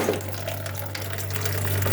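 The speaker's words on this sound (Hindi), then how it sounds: "अब मैं इसके अंदर पानी ऐड करूंगी।" Water runs in a steady stream into a cooking pot of garlic and spices, a continuous splashing pour with a low hum underneath.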